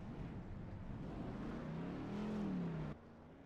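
A race car does a burnout against the wall at Daytona after a Diehard Racing American Hero Hunt Cup Series race, its engine roaring loud and steady with a rising, sustained howl that cuts off abruptly near the end.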